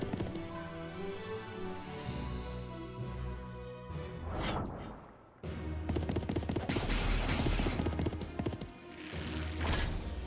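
Horse hooves clopping in the strategy video game Symphony of War, rhythmic steps layered over orchestral game music and battle sounds, with a brief pause midway before resuming louder.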